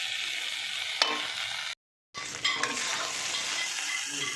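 Egg chicken chow mein with fried egg and chopped coriander is tossed and mixed in a hot pan, giving a continuous loud sizzle with scraping stirs and a brief gap of silence midway.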